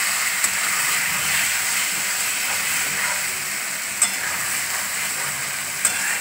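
Poppy seed paste being sautéed and stirred in a pan for a vegetarian ridge gourd and potato posto, giving a steady close sizzle and frying hiss with faint stirring scrapes and a few sharp utensil clicks.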